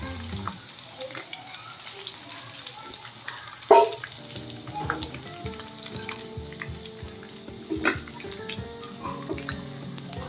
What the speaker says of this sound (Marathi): आता याला कमी गॅसवरती फ्राय करून घ्यायचं आहे